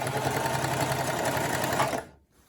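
A Singer Classic sewing machine stitches a pant hem in a steady, rapid mechanical chatter up close, stopping abruptly near the end.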